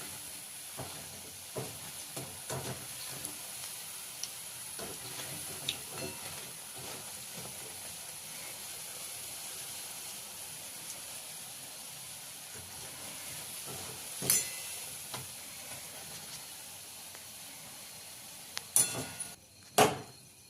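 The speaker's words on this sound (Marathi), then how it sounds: "त्याचा कलर एक नॉर्मल ब्राऊन होईपर्यंत त्याला फ्राय करायचं आहे।" Food frying in a pan until browned, a steady low sizzling hiss running throughout with occasional faint clicks and a few louder clatters near the end; no talking.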